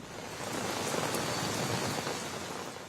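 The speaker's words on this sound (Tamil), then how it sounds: "கடலூர் சுற்றுவட்டார பகுதிகளில் மழை பொழிந்து வருகிறது" Heavy rain pouring down steadily around Cuddalore in Tamil Nadu, a dense continuous hiss with no breaks, fairly loud and even throughout, no voices.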